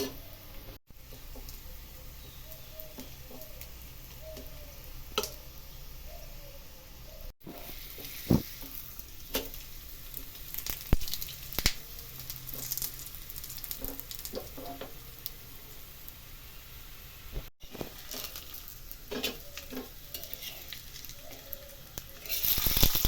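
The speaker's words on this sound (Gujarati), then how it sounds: "આ રીતે કિનાર પર ઘી લગાવીશું, જેથી કરી અંદર ઘી જાય" Rice flour malpua fries in ghee in a pan, giving a steady, soft sizzle throughout with scattered small pops and crackles close by.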